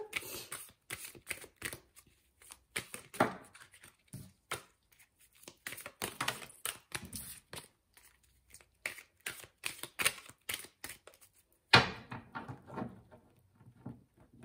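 Oracle cards are shuffled by hand in repeated quick riffling bursts with short pauses between, close and crisp, ending with a single louder slap of the deck.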